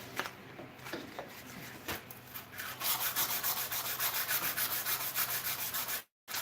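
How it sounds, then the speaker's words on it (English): A wooden handle is sanded by hand with ordinary hardware-store timber sandpaper. Close, dry rasping strokes become a steady back-and-forth rhythm partway through, with no voices. "is just your everyday run-of-the-mill hardware store wood sandpaper"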